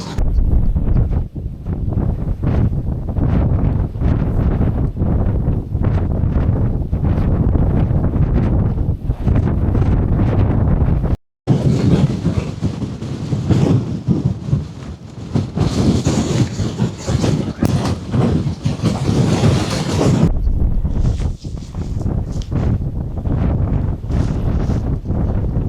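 Strong, gusty wind roars across the microphone on Conic Hill, a constant loud buffeting rush with a brief dropout midway and heavier broadband gusts after it.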